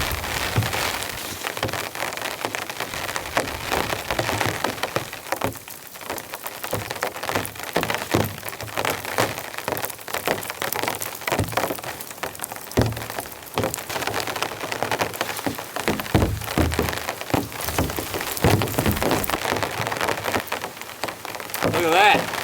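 Heavy rain pours steadily during a winter storm in a wooded camping spot, hammering nearby surfaces with dense, loud patter and sharp drips from start to end.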